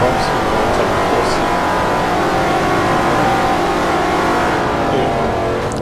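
A Plymouth Cuda in Forza Motorsport 4 roars at Sedona Speedway, its engine held at high revs in a steady, loud, continuous drone for the whole stretch with no pause.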